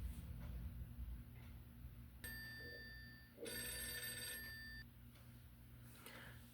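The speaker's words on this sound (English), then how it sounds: "But then the phone rang one time" A telephone rings in a house, two electronic trill bursts separated by a pause over a quiet background hum.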